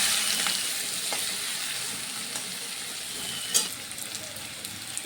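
Onion and garlic frying in oil tempered with asafoetida, dried chilli and cumin, a close crackling sizzle that gradually eases, with a few sharp pops and clinks of stirring.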